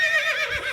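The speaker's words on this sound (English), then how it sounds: "He was named Paolo Laughing Horse because his laugh sounds like a neigh." A horse neigh used as a comic laugh: one short, bright whinny with a wavering pitch, loud and close, heard on its own.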